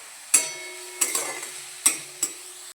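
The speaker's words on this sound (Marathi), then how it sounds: "आता ना कांदा फक्त चांगला परतून घेते" Onion sautés in a pan for pav bhaji as a spatula stirs it, four sharp metallic clinks and scrapes spaced irregularly over a soft background sizzle, close by and with no talking.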